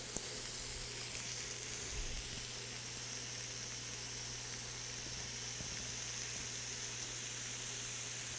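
Pork slices sizzling on a Zojirushi electric grill for yakiniku, a steady, even hiss running continuously with a low electrical hum beneath and a few faint clicks, no voices.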